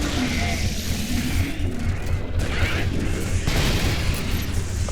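A grenade explodes in the video game Halo 3, a loud, rumbling boom that sits in a thick wash of battle noise and keeps roaring for several seconds.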